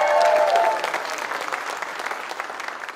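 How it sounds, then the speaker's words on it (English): An audience applauding at a Hall of Fame induction ceremony, a burst of steady clapping that starts strong and then tapers to scattered claps, with a voice briefly heard at the start. "give her a round of applause"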